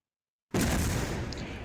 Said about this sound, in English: pull the pin out and hold it too long, it explodes, which it does here